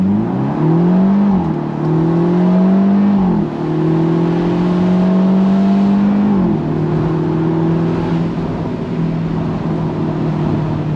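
A Mercedes-Benz SLC 300 Final Edition roadster accelerates hard at full throttle, its turbo engine droning loudly and steadily as the pitch climbs through three gear changes, each marked by a brief dip before the note rises again.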